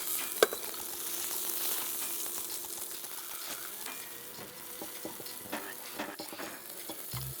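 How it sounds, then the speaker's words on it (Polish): Pork loin fries in a hot pan with a continuous, moderate sizzle, and soft crackles and small pops rise and fall throughout. "Na rozgrzaną patelnię nałożę schab i przesmażę z każdej strony na złoty kolor."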